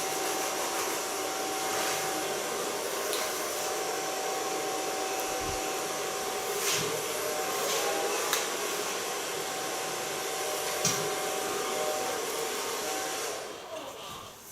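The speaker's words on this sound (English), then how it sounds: "I put polish the ends with the other position of the hair blower" A hair blower runs steadily and loudly as hair ends are dried and polished, a constant close whooshing hum with a faint tonal whine that drops off at the very end.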